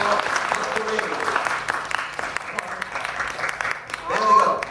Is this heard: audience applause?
yes